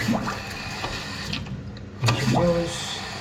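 A toilet cistern refills through its ball valve, a continuous rushing, hissing flow of water with a few faint clicks and knocks, close and steady throughout.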